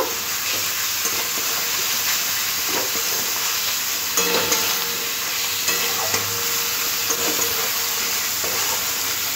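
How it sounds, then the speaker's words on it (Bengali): Fried pointed gourd is stirred into masala in a pan for a potol curry: a steady close sizzle with repeated scraping stir strokes, and no talking. "এবার দিয়ে দেবো ভেজে রাখা পটলটাও খুব ভালো করে মশলার সাথে মিশিয়ে নেব।"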